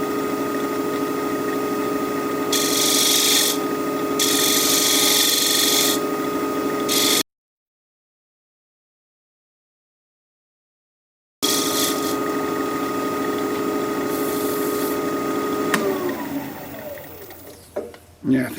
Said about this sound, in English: I'm using a 3/8 inch bowl gouge now.